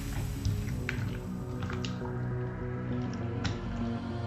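Chicken pieces being mixed by hand with pepper powder and salt give soft, wet squishing and dripping sounds, close and quiet, in an irregular stirring rhythm.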